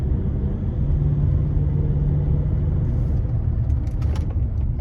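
A Range Rover with seized brakes being bedded in, driven from 0 to 30 and braked lightly to a standstill, giving a loud steady engine and road rumble heard from inside, with a few brief higher squeaks near the end.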